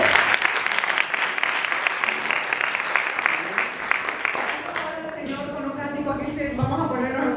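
A church congregation at a Spanish-language family service gives a strong round of applause, a loud, dense wash of many hands clapping that fades after about five seconds into a voice singing or speaking.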